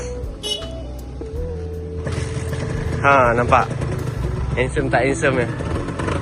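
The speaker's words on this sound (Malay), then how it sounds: "On dulu enjin dengar bunyi." A motorbike engine runs at a steady idle close by, with a constant low hum beneath people chatting throughout.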